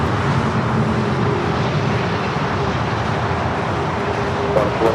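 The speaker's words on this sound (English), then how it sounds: "we got that outlaw Dreamliner, 787-8 Dreamliner, south side arrival" A Boeing 787-8 Dreamliner arriving at LAX produces a steady, broad jet rumble with a faint tonal whine, heard from a distance over constant airport background noise.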